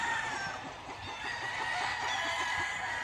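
Roosters crow in a farmyard, several drawn-out cock-a-doodle-doo calls overlapping at moderate distance, with clucking fowl beneath and a faint steady background.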